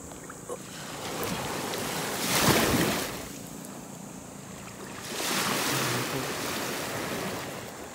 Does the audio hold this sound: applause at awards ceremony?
no